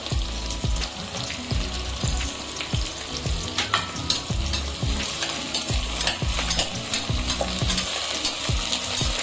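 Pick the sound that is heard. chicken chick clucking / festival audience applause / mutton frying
mutton frying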